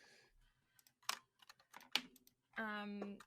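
A few scattered clicks of typing on a computer keyboard, quiet and sparse, come between snippets of nearby conversational talk, with a sustained voiced sound near the end.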